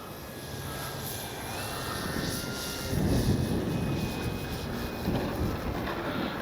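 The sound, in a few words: Hangar 9 J-3 Cub 10cc RC plane flying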